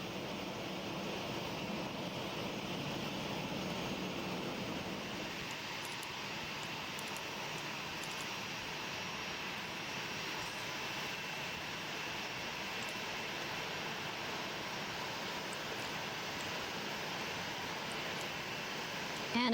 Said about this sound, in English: The U.S. Air Force plane, SPAR-19, has flown the U.S. House of Representatives Speaker Nancy